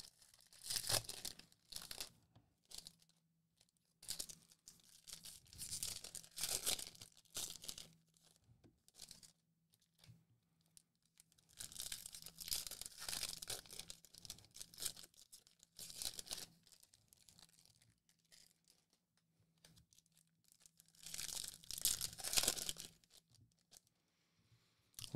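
Foil packs of 2024 Topps Series 2 baseball cards are torn open one after another, close, crinkly ripping and rustling in repeated bursts separated by quieter pauses.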